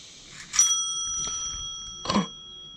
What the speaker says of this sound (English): we've added a bell. I've never had a bell on this thing.